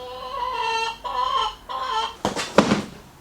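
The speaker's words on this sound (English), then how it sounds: "Hello, chickens. If you're not laying eggs, get out of my shed." Chickens cluck inside a shed, three close, rhythmic calls in a row, followed by a sharp rustle and clatter as the birds shift about.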